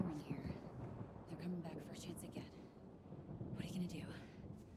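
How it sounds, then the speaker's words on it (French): Thunder rumbles and steady rain wash through a stormy scene in the video game The Quarry, a continuous low roar with brief louder swells, while characters talk over it. "Oh, Kathleen, la pluie dure jamais très longtemps."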